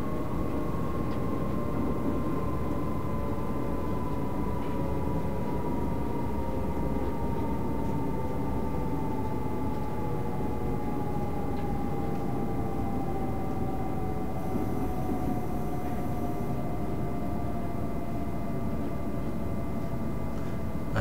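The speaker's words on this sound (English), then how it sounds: "the train starts slowing down" Train in the RWA-Skyhook 1014 train simulator game slowing down, a continuous rumbling drone with a steady tone gliding gradually lower over about twenty seconds.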